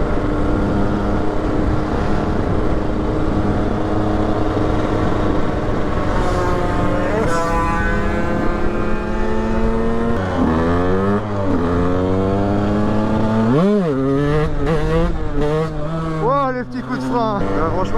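A KTM 125 EXC dirt bike engine revs up and pulls hard in long gearing, pitch climbing through rising tones, loud and close, with wind rush over the engine.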